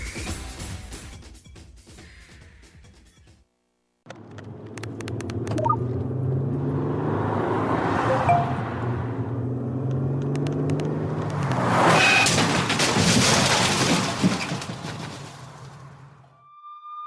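Car driving on a road in a radio public service announcement about texting while driving. A rumbling engine and road noise swell and build, loud and close, then fade out at the end, with no talk.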